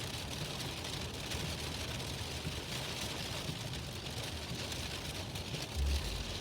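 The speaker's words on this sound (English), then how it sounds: "Autobahn greeted us with rain." Heavy rain drums steadily on a Mercedes CLS driving on the Autobahn, a dense, even wash of noise with low road rumble beneath and no voices.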